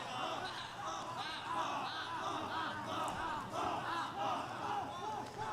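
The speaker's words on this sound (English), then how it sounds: "we got a lively crowd tonight" A lively crowd cheers and shouts at a high school baseball game between Pittsburg and Kilgore, a continuous din of many voices with speech mixed in.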